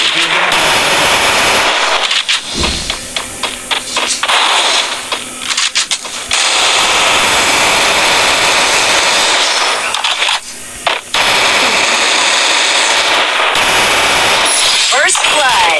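Gunfire in the mobile battle royale game Free Fire, with bursts of automatic shots and scattered single cracks, loud and continuous over a busy game soundscape, with players talking over it.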